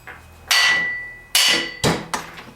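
A hammer beating on a flywheel puller on a Stihl 015L chainsaw: four loud, ringing metal blows at uneven intervals, close up, with no speech.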